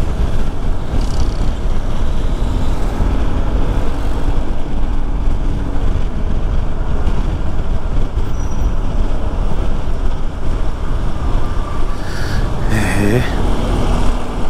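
Dense, busy road traffic in São Paulo, with a continuous loud roar of engines and tyres and occasional passing vehicles, close and steady throughout.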